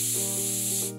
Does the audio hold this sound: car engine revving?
no